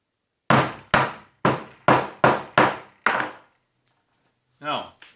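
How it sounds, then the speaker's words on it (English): Seven sharp, evenly spaced hammer blows pound the end of copper tubing shut, loud and close with quick decays, then a pause and a brief voice at the end. "take a hammer, you smash the end shut"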